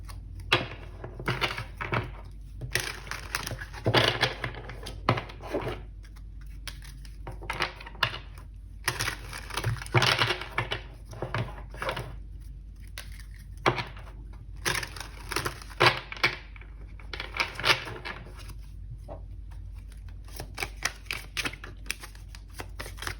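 Tarot cards shuffled by hand at close range, a long run of crisp riffling and flicking bursts separated by short pauses, with no talking.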